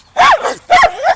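A dog gives two loud, close barks in quick succession, each a sharp tonal burst, with no talk over them.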